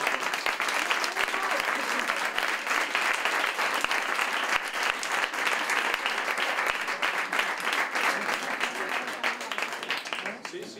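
Audience applause at a physics talk, sustained dense clapping with some sharp individual claps standing out, carrying on steadily at moderate loudness with voices faintly mixed in.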